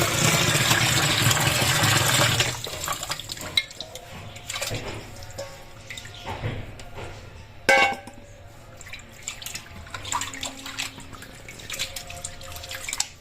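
Hot water poured bit by bit over goat intestines in a kitchen, a loud running splash at the start giving way to intermittent trickles, drips and handling sounds.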